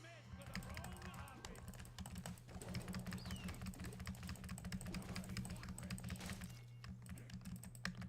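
Computer keyboard keys are mashed rapidly during a Heroes of the Storm match, making a dense, continuous clatter of close-up taps over a low steady hum, with a voice murmuring in the background.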